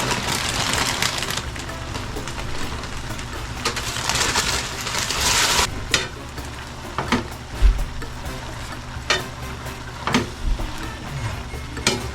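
Pancit canton noodles are tossed in a pan: a steady hissing rush, followed by sparse clanks and scrapes of the utensil against the pan at irregular intervals.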